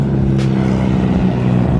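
Toyota Supra engine at a drift event, a steady loud droning rumble held at high revs throughout, close and dominant with crowd noise mixed in.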